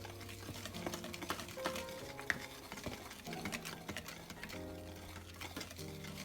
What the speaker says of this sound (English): now we're just gonna mix all of the dry ingredients together